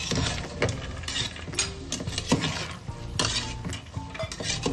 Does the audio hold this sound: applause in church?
no